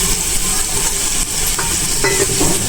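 Paneer masala with cashews being stirred and mixed in a pan over heat, a continuous close sizzle with scraping spoon strokes near the end.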